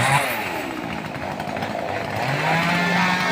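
A chainsaw buzzes steadily and loudly, its engine pitch wavering slightly as it bites into longan wood, with no talking over it.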